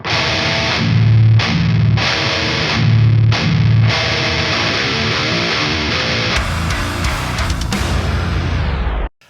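Heavy distorted metal guitar chugging with tight palm-muted riffs, loud and continuous, with brief pauses and a ringing chord near the end before cutting off.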